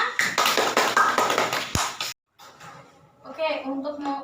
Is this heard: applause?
yes